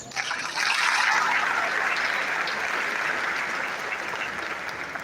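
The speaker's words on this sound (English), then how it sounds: "Another round of applause for the Registrar of the Medical and Dental Council of Nigeria" Large audience at a medical and dental induction ceremony for newly qualified doctors applauds in a steady, dense wash of clapping, heard from a distance and sustained throughout.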